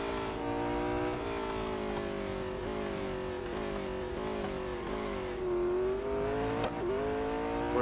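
A race car engine in the video game Real Racing 3 drones steadily through a lap, its pitch rising and falling with gear changes and corners, close and continuous with no voices.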